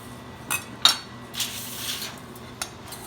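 Tossed vegetables being put into a metal sheet pan for roasting: a handful of scattered clinks and light scraping taps against the metal, close and fairly quiet, with no talking.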